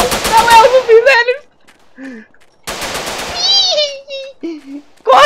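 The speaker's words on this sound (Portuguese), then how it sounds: "Caralho, tomei tiro. Outro tiro." Bursts of rapid gunfire in the video game GTA Wasteland crackle in short volleys, loud and close, with an excited voice talking over and between the shots.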